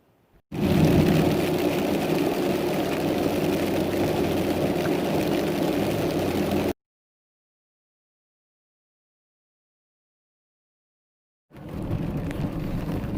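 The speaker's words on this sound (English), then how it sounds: "It's rained the whole way, me coming up here to work." Heavy rain roars steadily around a dump truck on a wet morning, a loud, dense, continuous wash. It cuts off into complete silence for about five seconds and then resumes just as strong.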